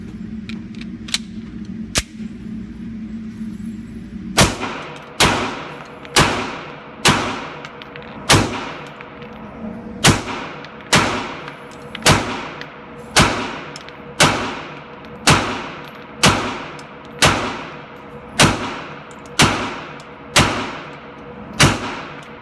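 An M&P Pro Series pistol fires at a shooting range: a long, steady string of sharp, loud shots, each about a second apart, each with a short ringing decay, after a few quieter scattered shots at the start.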